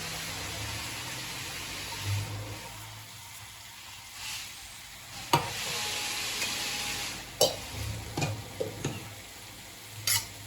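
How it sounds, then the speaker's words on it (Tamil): Masala for pepper chicken is stirred in a sizzling pan: a constant frying hiss runs throughout, with scraping stirs and sharp clinks of the spoon against the pan now and then. "அதை போட்டு நல்லா கிண்டுவோம்."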